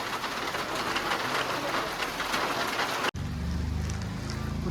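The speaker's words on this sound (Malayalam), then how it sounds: "ഈ മഴയും കൂടി ആയത് കാണാൻ നല്ല ആംബിയൻസ് അവിടെ" Rain falling along the hill road up toward Vagamon in Kerala makes a steady, dense hiss for about three seconds, then cuts off abruptly to a quieter low rumble.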